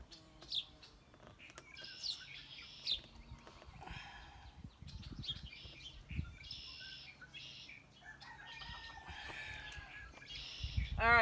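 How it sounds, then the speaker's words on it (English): Outdoor birds chirp and tweet in the background with scattered short calls, faint and intermittent and spread through the stretch, with some low rustling and no talking. "if you hear chickens and dogs and stuff in the background"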